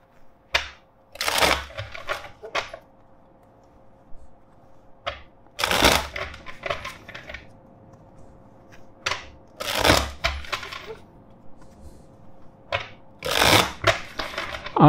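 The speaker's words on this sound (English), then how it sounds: "First, let's shuffle the deck." Repeated bursts of a tarot card deck being shuffled at close range, riffling in several separate sweeps with quiet pauses between them and no talking.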